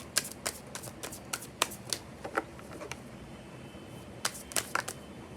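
Tarot cards being shuffled and flipped at close range, producing a quick series of crisp, papery slaps and riffles in uneven bursts with short pauses between them.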